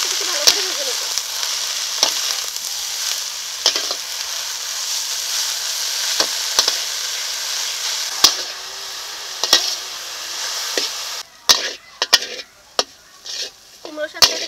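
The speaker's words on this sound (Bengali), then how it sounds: "এখন সমস্ত কিছু ভালো করে ভেজে নেব।" Pumpkin leaves frying in a pan with turmeric, salt and slit green chillies, a steady close sizzle broken by regular scraping stirs of a spatula, with sharper clacks and quieter gaps near the end; no talking.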